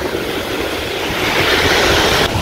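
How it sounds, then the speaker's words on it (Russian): Rough Black Sea surf crashing and rolling onto the shore in stormy weather, a continuous loud roar of waves mixed with gusting wind noise on the microphone. "Сейчас как даст вот эта волна."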